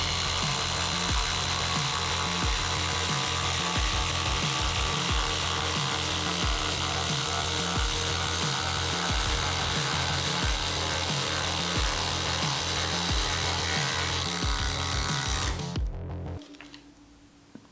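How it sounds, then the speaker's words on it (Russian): A DeWALT DCF870 oil-pulse impact driver and a Milwaukee impact driver, both on full charge at top speed, drive into wood. A loud, rapid, rhythmic hammering whir runs steadily for about sixteen seconds, then cuts off abruptly. "оба импакта у нас на пауэрстаках полностью заряженных, оба на максимальной скорости"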